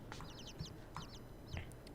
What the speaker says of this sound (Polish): Tu kolejne wróbelki